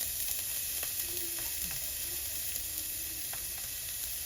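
Garlic and onion sizzle in a pan for a simple home vegetable stir fry, a continuous even hiss with occasional faint clicks of a utensil, no talking.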